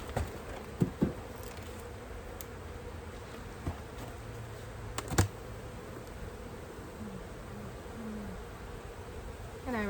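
Honey bees from a nuc hive installed about a month earlier give a steady, quiet buzzing hum close by, with occasional light taps and rustles and no talking.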